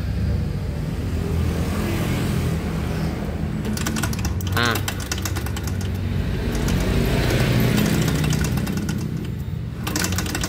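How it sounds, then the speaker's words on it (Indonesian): A Honda Vario 150 scooter with a starting fault is cranked on the electric starter, and its engine runs steadily and loudly close by, with a mechanical clatter partway through. "Nah, coba bisa starter. Perhatikan untuk suara mesinnya."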